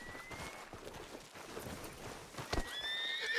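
A horse in the Red Dead Redemption 2 video game gives a high, quavering whinny near the start and again at the end, with a steady clip-clop of hooves running underneath at moderate volume.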